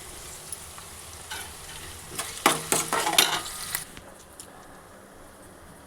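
Shahi jeera dropped into hot oil for a crispy boti fry, a burst of crackling sizzle and popping that swells for a couple of seconds, then settles into a quieter steady fry.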